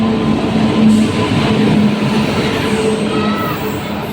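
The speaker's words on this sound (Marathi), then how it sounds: "आपली ट्रेन आली आहे," The Hingoli Jan Shatabdi express pulls into a crowded Indian railway station with a loud, continuous low rumble and a faint tonal whine. Faint voices sit under the noise.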